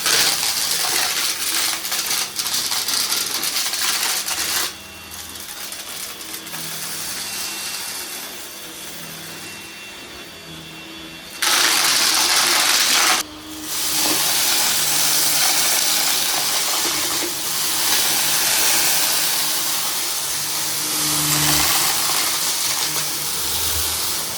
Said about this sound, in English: This Hoover is extremely quiet.